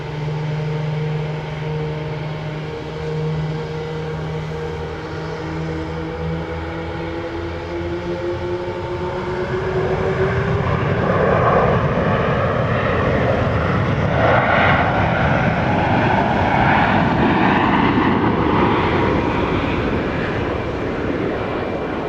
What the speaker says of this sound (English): Hear those jet engines revving up just below us.